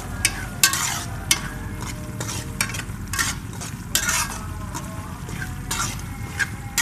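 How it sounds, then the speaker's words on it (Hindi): Semolina being dry-roasted in a pan for halwa, stirred steadily with a spoon scraping the metal in repeated close strokes over a soft continuous frying hiss, with no voices. "सूजी को हम ब्राउन होने तक भूने जाएंगे।"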